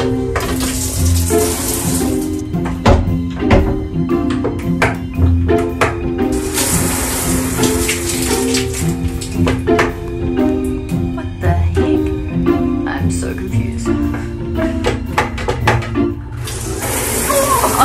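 Shower water sprays in bursts inside a small Amtrak California Zephyr train bathroom, a hissing rush that starts, stops and returns, with steady tonal music playing underneath throughout.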